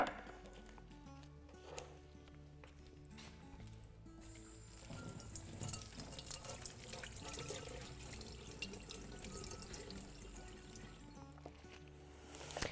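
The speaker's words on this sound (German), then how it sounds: "Einfach halbieren und danach mit Wasser auswaschen und dann weiterverarbeiten." Running tap water rinses a halved leek in a kitchen sink, a continuous splashing stream that changes tone as the leek moves under it and cuts off near the end.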